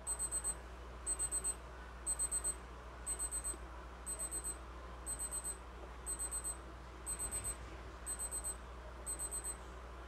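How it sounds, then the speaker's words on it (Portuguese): A Casio G-Shock DW-5600LS countdown alarm, high electronic beeps in quick bursts of four repeating about once a second, close and clear over faint background noise. "a luz toca em sincronia com o alarme"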